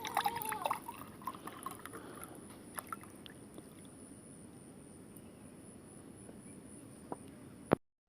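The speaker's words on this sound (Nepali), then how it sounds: "म तपाईलाई यसमा पानी भरिदिन्छु।" Water is poured into a glass for a science experiment on atmospheric pressure, a faint, steady trickle that fades quieter and ends with one sharp knock.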